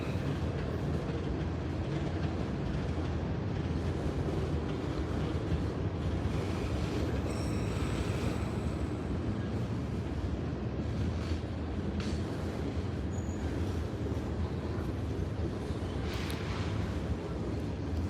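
A long, steady low rumble of a freight train with locomotives and boxcars rolling past, heavy and continuous, with faint metallic squeals now and then; one distributed power unit sounds rough.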